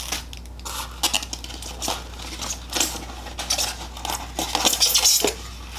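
Small wooden spoons are handled while a subscription box is unboxed, giving light, close clicks, taps and rustling knocks scattered irregularly over a faint background hum.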